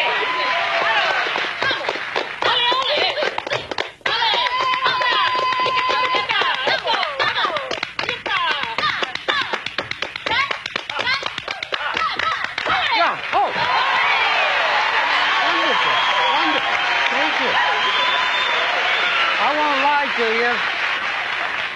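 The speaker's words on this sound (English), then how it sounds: "we can also do hand clapping, which is just palmas" Flamenco-style palmas: rapid, dense hand clapping keeps a brisk rhythm for much of the stretch, with voices talking over it and continuing after the clapping thins out.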